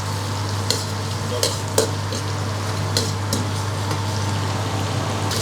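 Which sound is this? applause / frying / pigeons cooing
frying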